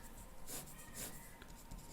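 Soft scratchy strokes of a marker or chalk writing on a board during an accounting lecture come in a few short bursts, quiet and close, with no talking.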